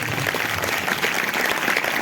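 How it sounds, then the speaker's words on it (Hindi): A congregation at a Wednesday church service claps loudly and continuously, a dense, steady wash of applause filling the hall. "चलो जोरदार तालियां बजाएंगे।"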